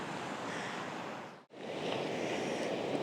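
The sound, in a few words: sea waves slapping on the shore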